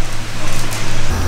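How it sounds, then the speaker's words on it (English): Electric fan running close by in a hot room, a steady loud broadband whoosh with a low hum underneath, continuous and unbroken. "sorry for the fan noise, but it's hot"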